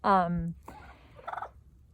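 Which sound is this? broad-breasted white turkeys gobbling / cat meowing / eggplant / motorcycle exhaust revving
broad-breasted white turkeys gobbling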